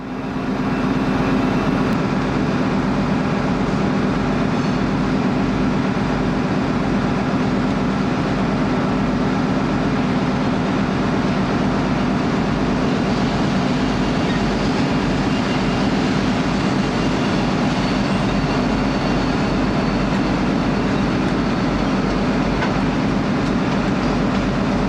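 Countrylink diesel passenger train in New South Wales, a Sydney-built set of five to seven cars between two diesel power cars, making a loud, continuous rumble with clattering wheels that stays close and steady throughout.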